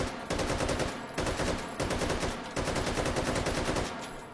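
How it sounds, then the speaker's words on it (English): Rapid bursts of rifle gunfire emptying a magazine, loud and close, in several clustered volleys separated by brief pauses, with no talking. "So if I am in the field, I want to shoot out this magazine."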